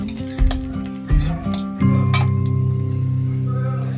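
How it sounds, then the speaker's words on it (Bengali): Chopped onions hit hot oil in a pan, giving a few clinks and scrapes followed by a steady, close sizzle that holds to the end, with a voice faintly underneath. "পেঁয়াজ কুচিগুলো দিয়ে দিচ্ছি দিয়ে সামান্য পরিমাণ ওদের লবণ দেবো লবণটা দেওয়ার কারণে পেঁয়াজটা বেশ খুব তাড়াতাড়ি ভাজা হয়ে যাবে"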